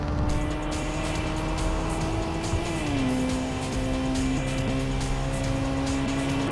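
Engine of a Tokyo Xtreme Racer 3 video game car revving hard as VTEC engages, a loud steady in-game engine drone whose pitch steps up mid-clip, with a brief tire squeal and no talk.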